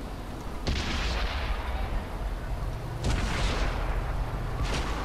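M12 tank guns fire in World of Tanks on PS4, three heavy booming cannon shots spaced a couple of seconds apart, each with a rumbling tail over a steady low battle drone.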